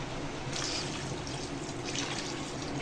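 Water pours steadily into a pot for chicken yakhni broth with dried coriander, a continuous splashing, trickling wash heard up close with no voices.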